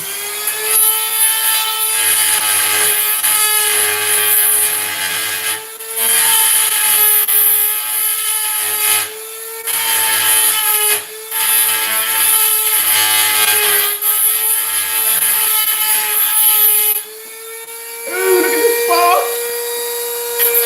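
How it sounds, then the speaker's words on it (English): Power tool grinds down metal while installing a projector shelf, throwing sparks; a loud, steady whine runs close up in long passes broken by short pauses, with a brief squeal near the end. "I'm just gonna grind it down a little bit."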